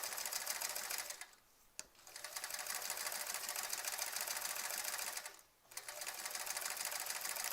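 A sewing machine quilts through thick, puffy applique with a fast, even close-up rattle that stops twice briefly before running again, with no speech.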